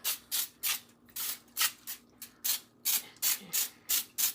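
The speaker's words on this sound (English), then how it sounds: "So what I'm gonna do, I'm gonna spray a little bit in there." A rapid series of short, sharp hissing cooking-spray bursts into a muffin tin, about a dozen in quick, fairly even rhythm, close by with no talking.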